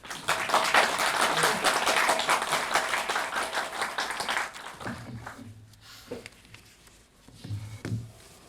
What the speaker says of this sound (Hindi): जितनी बार तालियां बजती हैं उतनी बार आपके हृदय की गति भी अच्छी होती है